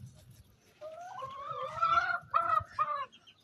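Chickens cluck and call close by in a garden, a few rising squawking notes in short bursts over faint background noise.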